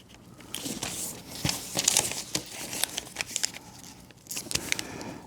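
Sheets of paper crinkle and crease in short, close bursts as origami folds are pressed flat by hand, fairly soft with uneven pauses between the rustles.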